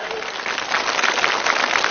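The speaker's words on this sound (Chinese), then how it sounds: "掌声给他来。" A studio audience on a Chinese TV talent show bursts into dense, steady applause, a brief wash of clapping filling the whole moment.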